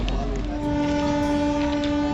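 A passenger train on the Howrah to Digha line rumbles past close by, a constant loud mechanical drone with steady humming tones and no talking.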